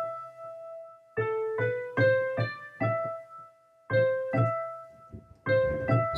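Solo piano plays a simple Swan Lake melody in short, separated phrases of clear single notes with sustained decay. The notes sound close and moderately loud, with brief pauses between the phrases.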